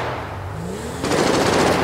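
A burst of rapid automatic gunfire erupts midway in the police roleplay game FivePD, loud and dense after a quieter stretch of engine-like hum.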